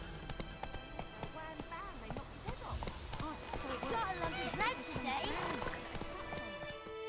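Steady rhythmic hoofbeats of a galloping horse in The Witcher 3 video game, continuous and fairly close, mixed with game ambience and music, with some speech nearby.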